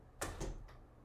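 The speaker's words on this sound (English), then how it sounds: "He even opened up the drawer." A household drawer is pulled open with two or three quick, faint sliding and knocking bursts, close but low in level against a quiet background.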